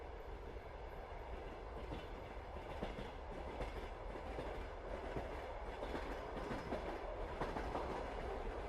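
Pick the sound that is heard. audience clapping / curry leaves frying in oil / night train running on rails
night train running on rails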